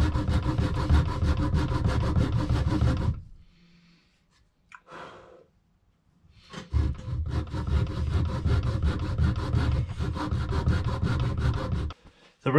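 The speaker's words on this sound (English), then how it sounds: "start sanding the sides in and marking chamfer lines and giving the fish a general shape" A wooden swimbait lure's sides being sanded, with a loud, close, rhythmic rasping of strokes that stops for a few seconds of near silence, then resumes steadily.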